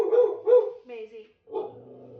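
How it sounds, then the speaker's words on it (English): A dog barks several times close by, sharp yips followed by a lower, drawn-out whining bark, with a brief pause between bursts. "we're not barking at the neighbors"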